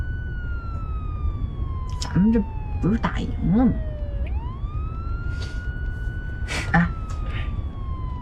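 A police car siren wails steadily through the scene, a long rising and falling tone under loud, excited conversation and laughter from several people riding inside the vehicle.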